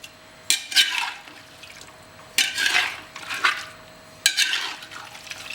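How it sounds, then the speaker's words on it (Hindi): Mysore mutton curry ingredients being mixed in a pot with no oil or ghee yet, giving three separate bursts of wet scraping and sloshing, close and moderately loud, with quiet pauses between them. "इन्हें मिक्स कर लें बढ़िया"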